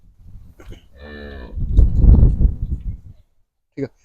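A buffalo on a Punjabi farm gives a loud, drawn-out moo lasting about two seconds, with a short low call near the end, and faint farm sounds around it.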